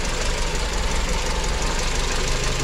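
A Volkswagen Gol idling with its ignition timing out of adjustment, a steady, close, loud engine rumble with a slightly knocking, uneven pulse and no voices over it.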